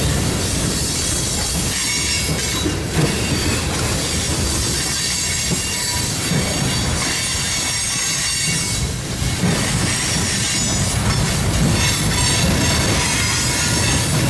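Intermodal freight train with mixed cars rounding the Mance curve, wheels squealing in high sustained shrieks over a steady rumble and rolling clatter, loud and continuous throughout with no talk.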